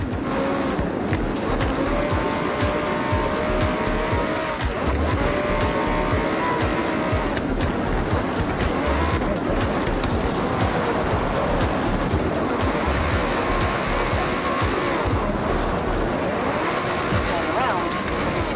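A Lamborghini Huracan Sterrato on all-terrain tires is driven hard in a racing video game. A loud, continuous engine roar runs throughout, with repeated tire squeals and skids.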